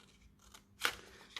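Scissors cutting a paper helicopter shape give one faint, close snip with a soft crunch, followed by a slighter click, against a quiet background with no voices.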